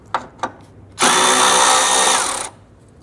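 Power tool spinning out a 10mm bolt that holds a washer reservoir to the fender of a 1999-2004 Jeep Grand Cherokee, a loud close burst of about a second and a half after two light clicks.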